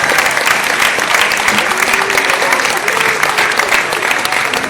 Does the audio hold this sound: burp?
no